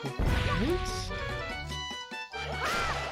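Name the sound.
barrier shattering in The Legend of Zelda: The Wind Waker video game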